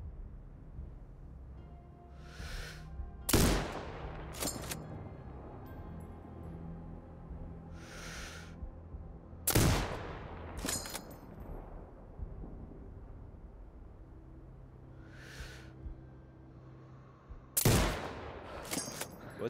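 Sniper rifle shots in the video game Sniper Ghost Warrior Contracts 2: three loud, sharp single cracks spaced several seconds apart, each followed by a rolling echo, over quiet ambient game sound.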